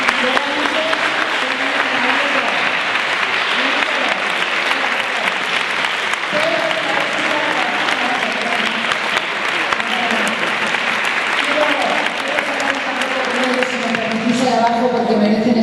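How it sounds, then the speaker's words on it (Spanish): Audience applause for a group of young students at an open class event, sustained and dense clapping throughout with a lively crowd, some voices and cheers mixed in. "quiero que les deis un fuerte aplauso a estos jóvenes"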